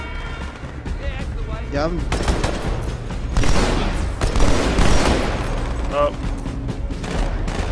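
Gunfire in Halo 2 on Cairo Station comes as dense, continuous bursts and booms through most of the stretch. Players talk and exclaim briefly over the shooting.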